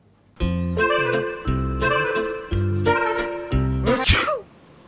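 A loud, close, exaggerated comedic sneeze builds through four long voiced gasps and ends in a sharp explosive burst.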